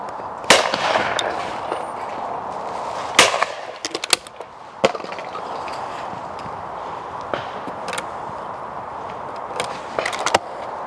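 Shotgun fired at clay targets using Fiocchi TT 24-gram cartridges on a sporting clays stand, several sharp, loud reports spaced a few seconds apart over steady outdoor background noise.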